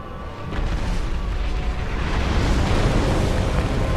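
Fire roars and crackles with a deep, rumbling whoosh in the video game Dark Souls, loud and steady for a few seconds with no voices over it.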